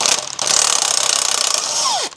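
A 3/8-inch impact wrench removes exhaust bolts on a 1986 Ford F-250 with a 302 engine, a loud, close, rapid hammering burst lasting about two seconds before it winds down and stops.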